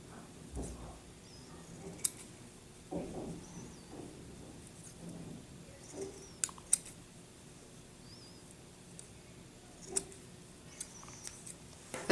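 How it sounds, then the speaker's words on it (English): Scissors snipping notches into fabric for a duck-shaped pillow, a few sharp, faint clicks scattered across a quiet stretch, with soft handling rustles between cuts. "So folding in half, cut away, making sure you don't cut your seam."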